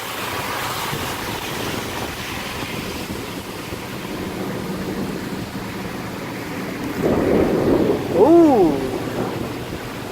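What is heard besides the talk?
rumbling thunder in a severe thunderstorm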